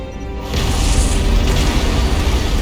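An antimatter charge detonates aboard a ship in Halo, a loud deep boom that swells in and then rolls on as a sustained rumble.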